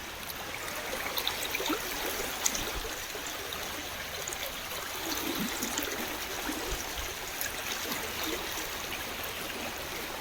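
Floodwater of the Thamirabarani river in 2024 rushes and gurgles continuously, a close, steady wash of flowing water with small splashes and no voices.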